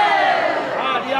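A crowd at the medieval market in Großbottwar bellows a short cheer in unison, a loud, brief massed shout of many voices.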